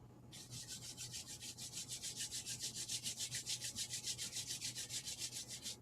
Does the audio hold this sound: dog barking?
no